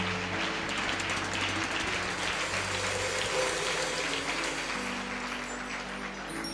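A church congregation applauds loudly in a dense, sustained wash of clapping that holds steady for several seconds, with no clear speech over it.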